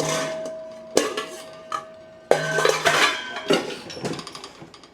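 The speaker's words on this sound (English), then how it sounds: "Let me get a bowl to put my scraps in." A ceramic bowl is pulled from a cupboard in a home kitchen and set down with clattering, ringing knocks, a few sharp clinks followed by a busier cluster of dish-on-dish contacts, close and clear with no talking.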